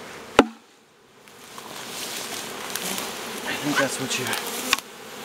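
A swarm of bees hums and buzzes close by, a dense droning that swells after a sharp knock and holds steady. A person speaks briefly over it, and a second knock comes near the end.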